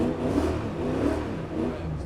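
Nissan Skyline engine revving hard while drifting on a frozen track, a steady close mid-pitched roar that swells and holds through the whole stretch with no talking over it.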